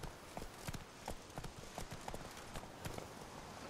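Roach the horse's hooves in The Witcher 3 clip-clopping at a walk: an even, unhurried run of separate hoof clops, soft and quiet, with no voices.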